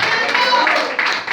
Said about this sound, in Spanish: Dele fuerte la ofrenda de aplauso a nuestro Dios y a su nombre.